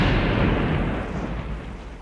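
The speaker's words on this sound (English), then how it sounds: "With modern cannon, they bombarded the home capitals of the shishi in Satsuma and Choshu." A loud cannon bombardment roars at full volume, with a broad, rumbling blast that fades slowly over about two seconds.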